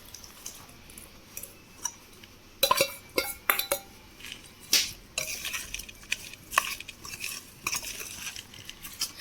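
A spoon stirs and scrapes through amla pachadi (Indian gooseberry pickle) in a bowl, giving irregular clinks and wet scraping taps that grow busier after the first few seconds, close and fairly quiet with no talking.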